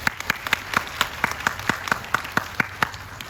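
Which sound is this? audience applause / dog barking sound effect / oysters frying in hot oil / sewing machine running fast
audience applause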